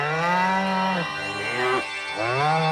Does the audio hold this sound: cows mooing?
yes